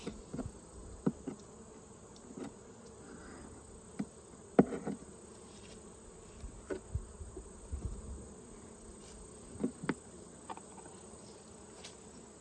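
Quiet, continuous buzzing of many honey bees at a hive during a fall hive check, with a few soft knocks and taps scattered through.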